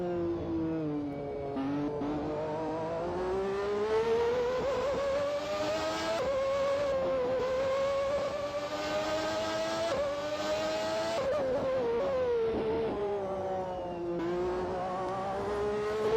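A JHR Formula One race car's engine in Grand Prix 4 screams at high revs, a loud steady whine rising and dipping through gear shifts across the whole stretch, with no talk.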